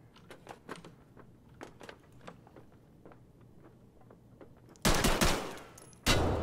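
Shotgun gunfire in Escape from Tarkov on the Factory map: scattered distant shots and clicks give way to two loud, close blasts near the end.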